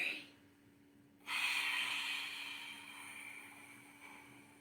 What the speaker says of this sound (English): Let's take a deep breath in.